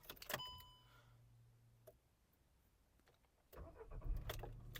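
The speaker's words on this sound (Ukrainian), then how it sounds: "Давайте запустимо двигун." Volkswagen Golf 6 hatchback engine cranking and catching with a short burst, then settling to a quiet idle, with a clunk and a second louder rev near the end; no talking.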